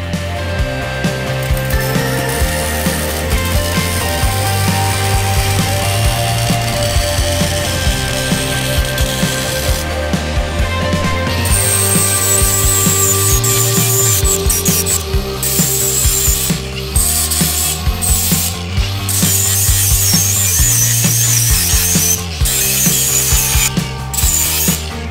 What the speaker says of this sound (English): I'll go ahead and cut this now with the nibbler.